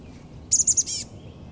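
Small birds, likely chickadees, calling among tall shrubs including Indian plum: a quick run of four bright, high chirps followed by a short buzzy trill, fairly close and standing out clearly over a low background hum.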